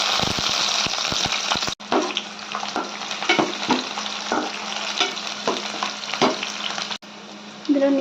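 Chopped onion and green chillies hit hot oil in a pan and sizzle steadily and loudly, with scattered scraping stirs and clatters breaking through the continuous frying hiss, all without any talk.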